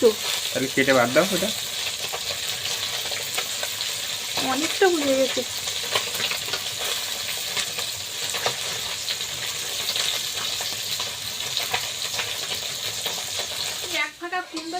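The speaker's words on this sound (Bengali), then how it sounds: "ভাজা করছি করেছি তো এই যে ভাজা হয়ে গিয়েছে কুমড়োটা" Pumpkin pieces fry in oil in a pan, a loud continuous sizzle with occasional scraping and stirring, and a brief clatter at the end; a voice is heard faintly under the frying.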